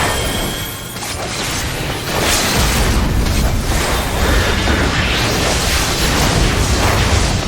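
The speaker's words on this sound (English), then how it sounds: "Here, again, he performs his Void Vortex attack." Void Vortex boss attack in Final Fantasy 14: Endwalker's Fell Court of Troia dungeon, a sustained roaring blast of rumbling, crackling energy that swells after a couple of seconds and stays loud and dense throughout.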